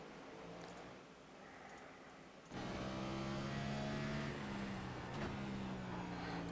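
NASCAR Next Gen race car engine in the iRacing game at Martinsville, a quiet buzzing engine tone that jumps louder midway as throttle comes on, then holds a steady rising drone.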